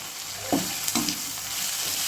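Chopped small onions sizzle steadily in a hot pan for a shark fish scramble, a soft continuous frying hiss with a couple of light stirring scrapes near the middle.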